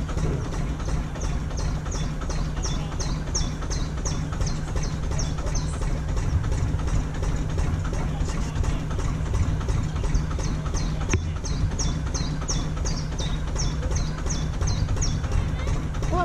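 A narrowboat engine idles close by with a steady low throb, while a bird chirps in quick repeated bursts in time with it and voices sound faintly now and then.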